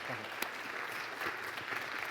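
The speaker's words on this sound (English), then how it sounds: "give a big round of applause for David Blumberg." A conference audience at a startup event claps for a speaker taking the stage, a brief, steady round of applause from a crowd filling the room at moderate volume.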